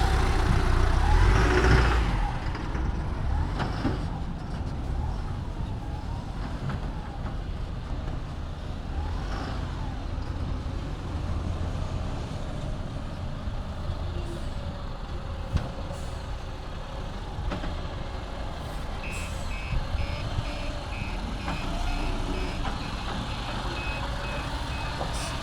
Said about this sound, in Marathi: तर बघा मित्रांनो, गाडीची ट्रायल होत आहे।